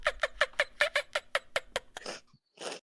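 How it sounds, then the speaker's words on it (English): Fast run of about ten sharp turkey gobbles in a rhythmic burst, followed by two rougher, noisier bird calls, picked up through a microphone at close range with no talk over them. "I hear the fucking birds in your fucking microphone."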